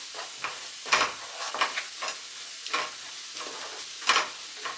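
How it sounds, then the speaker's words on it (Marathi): A spoon stirs turmeric, chilli powder and garam masala in a hot pan for prawns, scraping in irregular strokes over a soft, steady sizzle, close and fairly quiet. "हे सर्व व्यवस्थित आपण मिक्स करून घेऊया."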